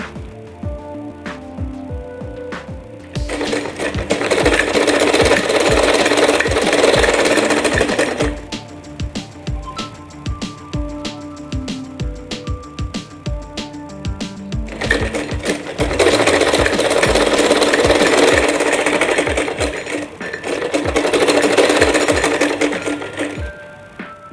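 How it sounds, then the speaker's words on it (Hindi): A sewing machine stitches a garment sleeve in two long, steady runs of rapid mechanical clatter, loud and close, with quieter idle mechanism sounds between them and no talking. "और बिल्कुल मोटी सिलाई लगाएंगे।"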